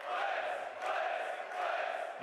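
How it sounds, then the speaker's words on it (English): A large crowd at a CS2 BLAST.tv Austin Major semifinal roars and cheers in a continuous, swelling wall of voices heard from a distance. "I hope you can hear me over this wonderful crowd"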